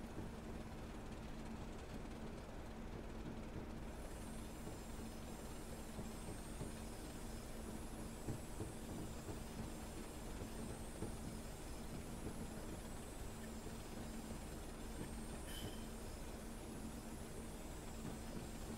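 A train in a train-driving video game rolls into a dead-end platform on the West Highlands Line. A steady, continuous rumble holds throughout, with a faint high tone running over it.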